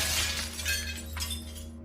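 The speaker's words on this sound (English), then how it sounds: "I heard glass shattering from somewhere deeper in the apartment." Glass shatters somewhere deeper inside an apartment, a bright crash followed by scattered tinkling fragments over a steady low hum, moderately loud and with no voices.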